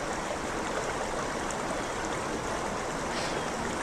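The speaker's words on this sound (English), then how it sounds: "the water is still flowing" A winter stream flows steadily with a constant, broadband rushing and babbling of water, close and even throughout with no voices.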